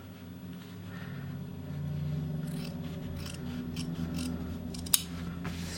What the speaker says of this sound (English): I'm going to grade and clip the seams